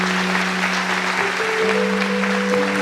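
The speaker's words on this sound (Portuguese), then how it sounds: "Levanta a sua mão e aplauda esse Deus Todo-Poderoso." A church congregation applauding steadily throughout, a dense continuous wash of clapping with a sustained musical tone underneath.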